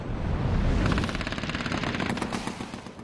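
Gunfire erupts in a firefight at the Euphrates Bridge, with loud, rapid bursts of automatic weapons fire in dense, overlapping rattles for about three seconds. No voices are heard.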